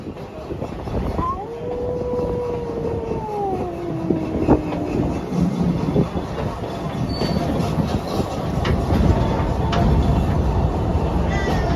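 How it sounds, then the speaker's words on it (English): The Big Bad Wolf roller coaster train runs a test at Busch Gardens Virginia, rumbling and clattering steadily at a distance with faint wheel squeals and a rising and falling whine over a continuous roar. "Test the train of the Big Bad Wolf."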